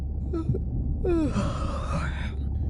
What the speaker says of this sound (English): Was that a yawn?